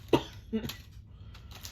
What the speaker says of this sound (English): Start talking and start coughing.